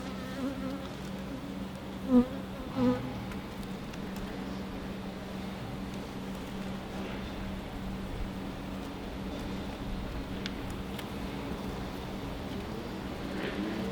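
Honey bees buzz steadily around an open hive during a pre-winter inspection, a dense continuous drone close by with a couple of louder bumps early on.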